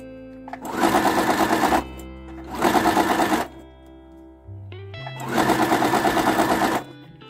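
Three bursts of a sewing machine fitted with a large presser foot, stitching sturdy seams on a fabric shopping bag holder, the motor whirring loud and close with short pauses between runs.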